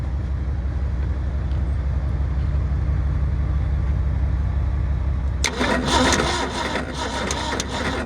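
A 1970 Ford Maverick engine cranks steadily in the snow with a low rhythmic churn, then catches and fires about two-thirds of the way in, turning into a rougher, uneven running sound nearby.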